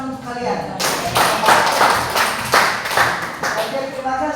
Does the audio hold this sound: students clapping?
yes